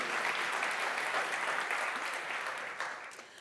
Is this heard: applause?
yes